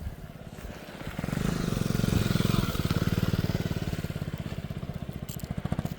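Motorcycles on the mountain road from Sonamarg to Zojila Pass rumble past close by, with engines pulsing rhythmically and swelling louder midway before easing back off.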